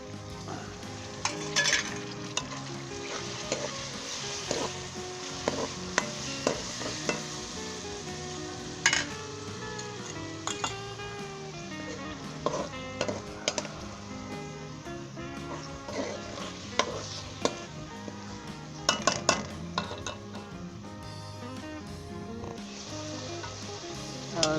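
Tomatoes go into a pan for a Lahori boneless chicken biryani and sizzle steadily while being stirred, with intermittent scraping and clinking of the spoon against the pan throughout.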